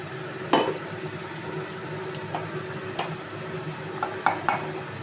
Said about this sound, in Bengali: এই কড়াইয়ের মধ্যে আমি এখন তেল দিয়ে দেব অল্প করে।